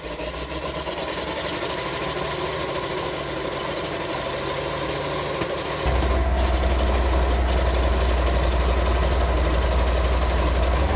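An M18 Hellcat tank destroyer's engine fires up and idles with a steady heavy rumble, then jumps to a louder, deeper roar about halfway through and keeps running close by.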